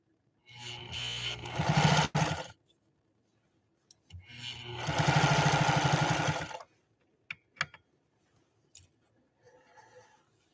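A 1955 Pfaff 230 sewing machine running a wide, long zigzag stitch in two sustained bursts of close mechanical whirring and clatter, followed by a few sharp clicks and a brief soft rattle.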